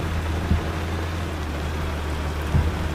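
Heavy rain pours steadily in the Truck Simulator Ultimate driving game, a dense continuous hiss over a low engine hum, with a couple of brief thumps.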